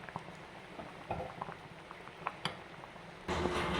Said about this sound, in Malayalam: ഒരു രണ്ട് മിനിറ്റ് ഒന്ന് തിളക്കട്ടെ